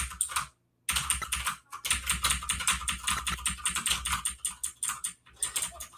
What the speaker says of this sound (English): I'm really conscious of how loud my pressing the keyboard is going to be